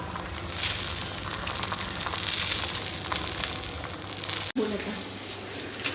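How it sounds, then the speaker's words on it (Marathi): Egg bhurji half-frying in a pan gives a steady, dense sizzle that runs close and loud for most of the stretch, broken by a brief dropout near the end before resuming. "आणि त्याला आपण आता थोडंसं असं फ्राय करून घे. जरा हाफ फ्राय"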